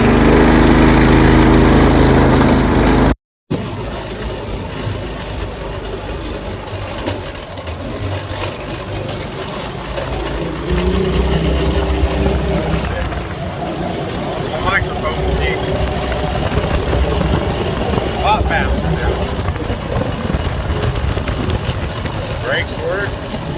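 A Coleman KT196 go kart's small engine runs on a test drive, a continuous rough, vibrating putter with a brief cut near the start, under intermittent talk.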